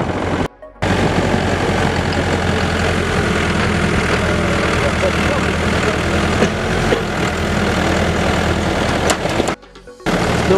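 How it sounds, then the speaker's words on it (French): A tractor engine runs steadily at a loud, continuous low roar near a wind turbine construction site, with brief dropouts near the start and end and no clear talk. "mon papa est venu avec le tracteur me chercher"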